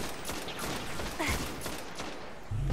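Gunfire rattles through a Destiny firefight on Venus, irregular bursts of shots and mechanical clatter at moderate distance, with a heavier thump near the end.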